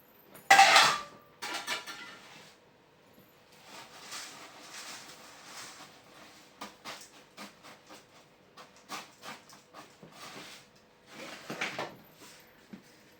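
Coconut and roasted gram are stirred together for chevdo, producing a loud initial clatter of a utensil against a pan, then softer scraping and tapping in irregular bursts close by.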